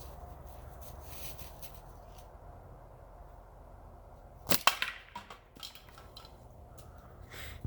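A Saunders Wing wrist rocket slingshot fires once at full cans, giving a single sharp snap and impact near the middle, with a short rattle after it over a quiet outdoor background.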